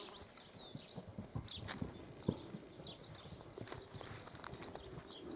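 A bay roan mare with her foal walks nearby, hooves clip-clopping in an irregular rhythm on the ground, with birds chirping faintly in the background and no talking.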